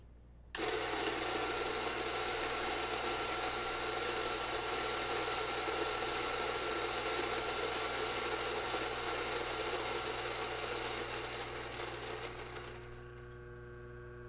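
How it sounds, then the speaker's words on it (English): A Rancilio Rocky coffee grinder grinds beans in a steady, moderately loud mechanical whir. It starts abruptly, runs without a break, and its pitch lifts and thins near the end as the beans run out. "It's not a quiet grinder, but it's not horrifically loud either."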